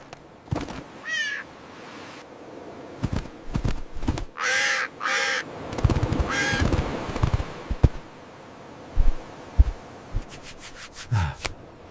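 Several loud, harsh bird caws break out in bursts among scattered clatter and rustling, with a few sharp cries close by and a rapid run of clicks near the end; no one speaks.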